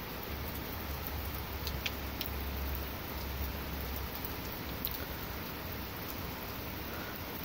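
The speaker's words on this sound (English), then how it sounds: "You can see the rain." Steady rain hisses through a severe thunderstorm, an even wash of falling water with a few faint drips and ticks on top and a low rumble underneath during the first seconds.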